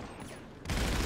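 Gunfire in the video game GTA Online breaks out suddenly after a brief, quieter moment, then holds as a loud, dense burst of shots.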